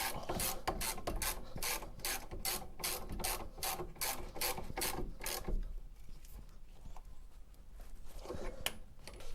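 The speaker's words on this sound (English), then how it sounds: "And then get the torque wrench on them." A torque wrench ratchets on rear brake bolts of a VW T5 van, a quick, regular run of loud clicks lasting several seconds before giving way to quieter rustling and handling noises.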